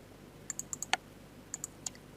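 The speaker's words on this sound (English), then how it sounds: "So if we were to type into our calculator" Keys on a CAS calculator keypad are pressed in a short irregular series of crisp, close plastic clicks, about eight taps with one stronger press, in a quiet room with no talking.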